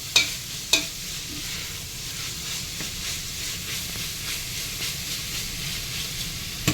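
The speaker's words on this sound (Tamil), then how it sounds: "ஃப்ளேம் ஹைலே இருக்குங்க அதனால விடாமல் மிக்ஸ் பண்ணிட்டே இருங்க அடியில் பிடிச்சிடக்கூடாது" Mushroom fried rice being stirred on high flame in a Chennai street-style pan, with a steady close sizzle and hiss, a couple of sharp clanks of the spatula early on, and no talking.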